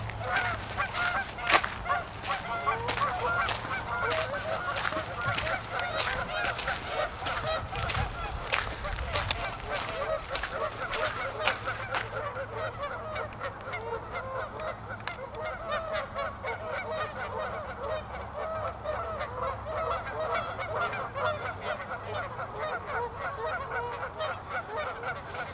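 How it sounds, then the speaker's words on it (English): A flock of geese honks almost continuously on a quiet morning, with dense overlapping calls that are loud at first and then settle into steady, slightly softer squabbling chatter. "It's pretty quiet, other than the goose activity."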